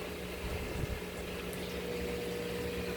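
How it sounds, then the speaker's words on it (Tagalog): A small amount of water runs into a cooking pot, a quiet, steady liquid rush over a faint low hum, with no talking. "unang gagawin natin guys ay maglalagay tayo dito ng kakonting tubig lang guys"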